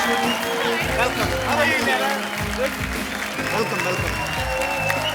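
A studio audience on The Kapil Sharma Show, a TV comedy show, gives dense, steady clapping that fills the whole stretch while a host speaks a greeting over it.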